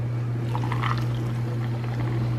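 A short pour of coffee into a cup over a constant low mechanical hum, with a brief gurgling stream in the middle.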